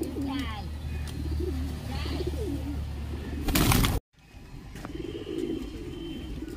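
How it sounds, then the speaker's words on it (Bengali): A white pigeon coos at a house, soft repeated coos over steady background noise, with a loud burst and a sudden brief dropout midway before the ambient sound returns. "পায়রাটা বাইরে বাইরে ঘুরে বেড়াচ্ছে"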